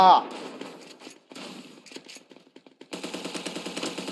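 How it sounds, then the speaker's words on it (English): Gunfire in the ev.io first-person shooter game, with a sharp blast at the start followed by rapid bursts of shots and clattering effects, a player's voice talking over the action. "was that a shotgun?"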